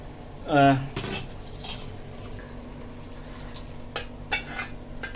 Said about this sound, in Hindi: अब इस मसाले को हम इस वाले गोश्त में डाल देंगे।